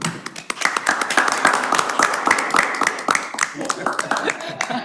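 Scattered, uneven hand clapping at a small-town city council meeting, a few people tapping out sharp claps that run steadily for several seconds, fairly close and mixed with murmuring voices in the room.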